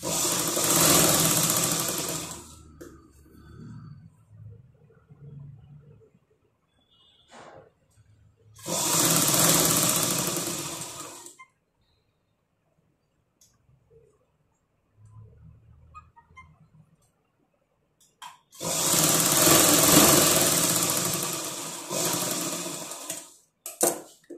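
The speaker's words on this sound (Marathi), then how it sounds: "इथे देखील मोठा टाक्याने टीप मारून घ्यायची आहे आणि हेमिंग केल्यानंतर ही टीप उसळून टाकायची." Sewing machine stitching a blouse sleeve hem with long basting stitches, three loud steady runs of rapid whirring separated by quiet pauses with small handling noises.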